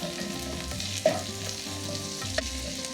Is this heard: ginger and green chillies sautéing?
yes